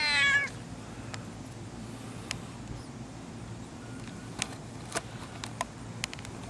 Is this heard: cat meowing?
yes